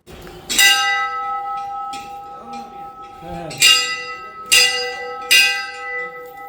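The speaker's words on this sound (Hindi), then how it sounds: "और इधर अलका सिंह पहाड़िया घंटी बजाने में फंसी हुई है" A temple bell at the Guru Gorakshnath temple in Varanasi rings out several times in uneven strokes, each bright metallic clang ringing on, with murmured voices faintly underneath.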